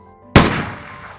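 A single loud shotgun blast in a Portuguese children's story, a sharp close bang with a booming tail that slowly fades.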